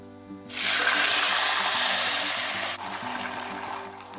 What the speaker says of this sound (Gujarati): હવે આપણે એમાં પાણી મૂકશું